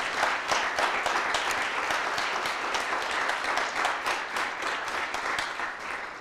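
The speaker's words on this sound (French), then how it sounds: "On peut les applaudir encore" An audience in a hall applauds a group, with steady, fairly quiet clapping that carries on evenly for about six seconds.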